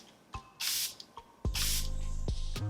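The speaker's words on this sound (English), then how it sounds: "I'm gonna spray the Charlotte on this hand right here." Hydrating face mist sprayed onto a hand for dry skin: two loud, hissing spray bursts, each lasting about half a second, close up, with faint taps and handling noises between them.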